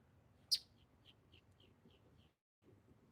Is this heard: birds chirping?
yes